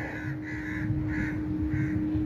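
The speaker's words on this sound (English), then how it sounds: "cute little baby bird" A stranded baby bird lying on the ground at Al Khobar Corniche calls out in four evenly spaced, harsh cawing cries over a steady low hum and background noise.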